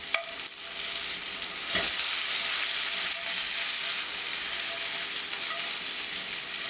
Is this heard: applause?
no